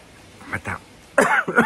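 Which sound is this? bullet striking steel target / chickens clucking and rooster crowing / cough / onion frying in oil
cough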